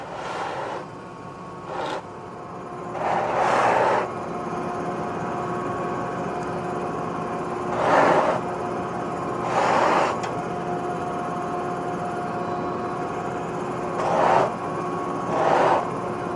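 A buffing machine polishes the wooden handle of a knife in a cutlery factory, a steady motor whir running throughout with repeated louder swells as the handle is pressed against the wheel.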